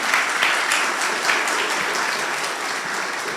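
A church congregation applauds a newly married couple during a service, steady dense clapping filling the room from start to finish, fairly loud and without talk over it.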